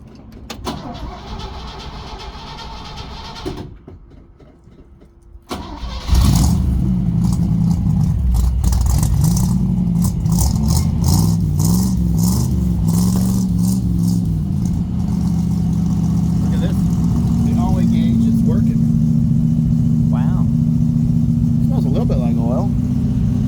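A 1964 Chevy Suburban with a 283 V8 cranks and catches, then runs loud and close at a steady, slightly uneven idle, with voices talking over the engine noise.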